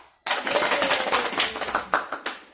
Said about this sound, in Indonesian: Nah, baik tepuk tangan dulu.